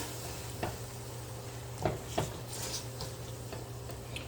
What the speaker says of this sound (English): Now, we're gonna saute that in there for about a minute.